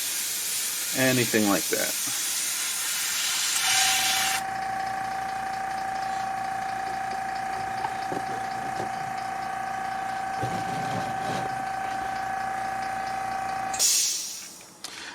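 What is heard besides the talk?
airbrush air compressor with tank refilling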